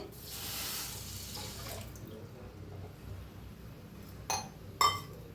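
Water from a glass is poured onto sugar in a kadai, a soft splashing gush at first that fades to a quiet trickle, followed by two sharp glassy clinks near the end.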